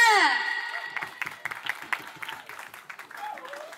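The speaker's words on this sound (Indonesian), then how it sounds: "Beri tepuk tangan sekali lagi untuk tim akustik SMA" Scattered hand clapping from an audience at a school event honouring a high school acoustic music group, light and uneven claps following a fading sung or spoken tone at the start.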